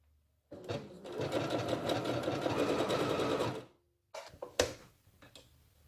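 A sewing machine runs steadily for about three seconds, stitching a decorative pattern with a rapid mechanical whir and needle clatter, then stops; after a pause come a few brief clicks and handling knocks, with no speech.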